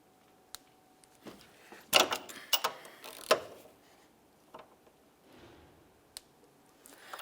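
A wrench clicks and ratchets in short bursts while turning the timing belt tensioner bolt on a 2011-2018 Volkswagen Jetta, with quiet pauses and faint metallic taps between pulls.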